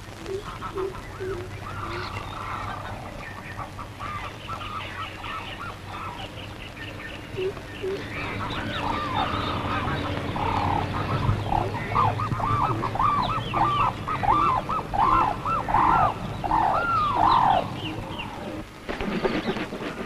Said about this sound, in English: Congregations of the painted stork or jangheel nesting.